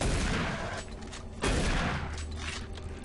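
Dense in-game gunfire from Doom 3 BFG Edition, a sustained burst of shots with a heavier boom near the middle, loud and continuous with game ambience and no speech.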